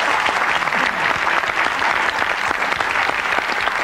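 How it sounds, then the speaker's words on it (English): A studio audience on a talk show applauds in a dense, steady burst of clapping that stays loud for the whole stretch. "That deserves an applause."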